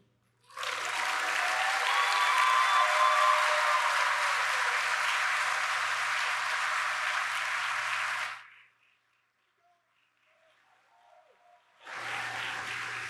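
A large audience at a first-year university orientation applauds in a loud, sustained burst of clapping for about eight seconds, falls silent, then starts again near the end.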